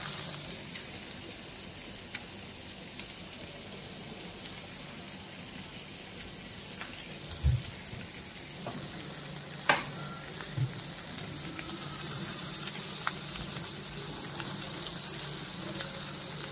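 Tomatoes frying in a pan, a quiet, steady sizzle running throughout with a few soft knocks and clicks of stirring, and no speech.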